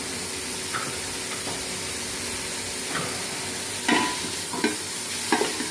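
Ginger and garlic frying in a pan, a steady sizzle with several scraping stirs of a utensil toward the end, close and clear, with no talking.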